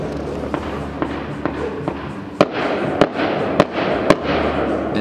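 Legal consumer fireworks go off in a quick series of sharp pops, with softer cracks first and then four louder, nearby bangs about half a second apart over a low rumbling background.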